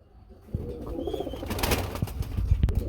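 Domestic pigeons at a farm selling breeding pairs coo nearby in low, soft bursts, mixed with rustling, shuffling and faint wing movement that grows busier toward the end.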